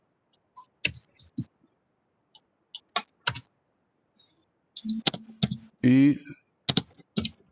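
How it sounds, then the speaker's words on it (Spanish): Hard, rapid typing on a computer keyboard, bursts of loud clicks in irregular clusters with pauses between, close by, with a voice speaking briefly partway through. "la profesora Kelly le está dando duro a ese teclado"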